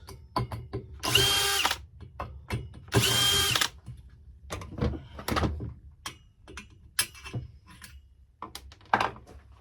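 Loosening screws on a Huawei LTE 4G base station with a power drill: two loud sustained whirring bursts, followed by scattered sharp clicks and metallic ratcheting knocks from the hardware, close by with no talking.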